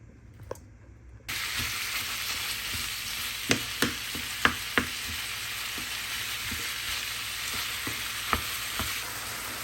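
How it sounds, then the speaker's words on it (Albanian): Onion and peppers frying with meat in a pan start a strong, continuous sizzle after a short quiet lead-in, with sharp clicks and scrapes of stirring scattered over it, close and alone. "Me njëherë shtojna qepën, specat që ti kaverdisim pra me mishin."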